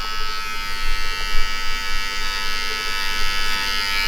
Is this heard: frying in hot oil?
no